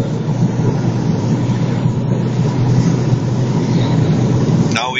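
A car accelerates in fourth gear through thick snow at highway speed, giving a loud, steady roar of engine and rushing wind noise close to the microphone for the whole stretch.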